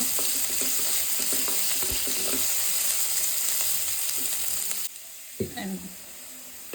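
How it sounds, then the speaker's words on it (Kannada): Onions frying in a pan for a vegetarian Korean ramen bowl, a steady close sizzle with scattered stirring clicks that drops away near the end, leaving a few utensil knocks. "ಆನಿಯನ್ನು ಅಷ್ಟೇ ಸ್ವಲ್ಪ ಗೋಲ್ಡನ್ ಬ್ರೌನಿಶ್ ಆಗಬೇಕು, ಅಲ್ಲಿವರೆಗೂ ಚೆನ್ನಾಗಿ ಫ್ರೈ ಮಾಡ್ಕೊಂಡ್ಬಿಡೋಣ"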